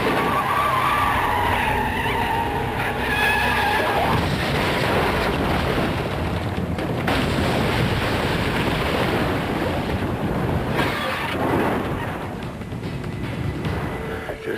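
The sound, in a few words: Porsche car skidding to hit a person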